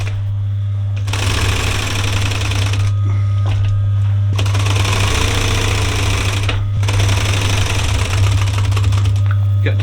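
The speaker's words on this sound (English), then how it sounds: "I'm just going to hold both pieces together and just sew" A sewing machine runs loud and close while stitching campervan cushion cover pieces, going in long bursts with brief pauses between them over a low, constant hum.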